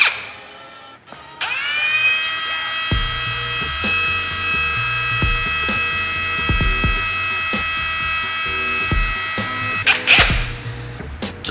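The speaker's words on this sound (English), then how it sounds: "we have to sand them down" Small 3D printed plastic pegs being sanded down with a power tool for a printed race plane model, a loud steady high whine running continuously for several seconds, with brief stops and restarts near the end.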